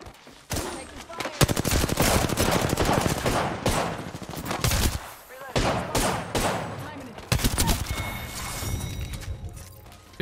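Rapid bursts of automatic gunfire in Apex Legends, loud and near, with dense firing runs broken by brief pauses and mechanical weapon clatter across the whole stretch.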